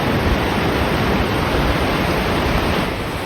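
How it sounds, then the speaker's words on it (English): Sea waves at Compton Bay wash in as a steady, dense rushing roar, constant and fairly loud with no distinct crashes or breaks, and no one speaking. "The waves aren't too crashing right now."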